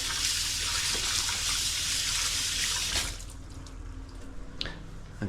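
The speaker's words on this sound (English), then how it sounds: "wash your hands, get that turkey mince off" Hands rinsed clean of raw turkey mince under a running kitchen tap, a steady close broadband water rush for three seconds that then thins into lighter splashing and drips.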